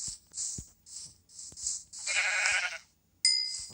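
Sheep bleat repeatedly in quick succession, several short, close cries with brief pauses between them and faint clicks underneath, while someone searches for sheep and builds a house.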